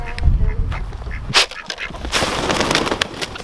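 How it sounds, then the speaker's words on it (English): A duck quacks near a group of chickens on a small farm with a greenhouse, giving a few loud close honking calls amid rustling and background movement, with no talking. "Oh, and then there was a duck."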